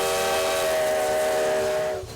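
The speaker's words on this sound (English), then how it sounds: "engine number 93 rolls through the Nevada sagebrush" Coal-fired steam locomotive number 93, built in 1909, sounding its whistle in the Nevada sagebrush: a single sustained, loud chime-like blast lasting about two seconds before cutting off.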